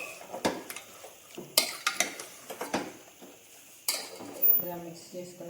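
A metal spoon scrapes and clanks against a pot as mutton is mixed with spices and other ingredients for a curry, in irregular close knocks and scrapes with a brief sizzle and no talk.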